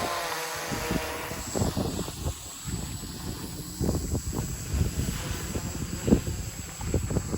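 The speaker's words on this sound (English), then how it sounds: "Winds at 30 kilometers per hour. Aircraft resisting the wind quite nicely." A DJI NAZA-controlled F450 quadcopter drone flies in 30 km/h wind over Barcelona, its faint steady motor whine buried under heavy gusting wind buffeting the microphone throughout.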